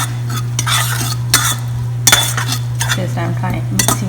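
A spoon stirs crushed ginger, garlic and green chili in hot oil for a masoor dal sambar, scraping and clinking against the pot in an irregular rhythm over a steady low hum, close and fairly loud.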